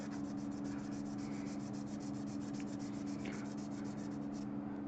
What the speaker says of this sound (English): So I'm just sanding down the engine mounts